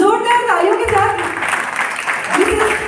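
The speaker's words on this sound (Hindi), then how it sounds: "सो जोरदार तालियों के साथ" A school annual day audience applauds a guest, a steady wash of clapping that runs beneath a speaker's voice throughout.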